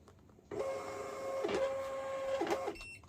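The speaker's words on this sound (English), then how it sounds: "I'm going to press print on the printer" A thermal label printer runs for about two seconds while printing candle labels, a steady close mechanical whir with sharper clicks at its start and near the end, as the label feeds through.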